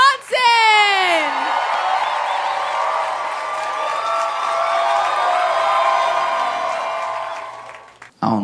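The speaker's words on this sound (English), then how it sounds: "Y'all start clapping right now. Give it up for Josh Johnson" A comedy club audience erupts for headliner Josh Johnson, with loud whoops and shouts at the start giving way to a sustained wash of clapping and cheering that holds steady for several seconds before cutting off.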